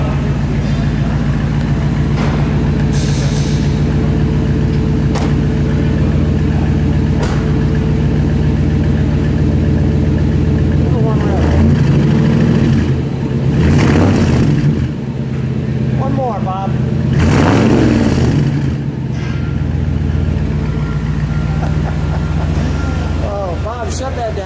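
A 1948 Buick Super Sedanette Custom with its engine running, a loud steady low rumble close by, with brief revving swells partway through and some background noise.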